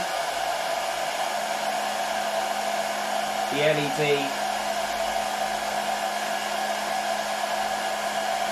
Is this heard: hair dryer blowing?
yes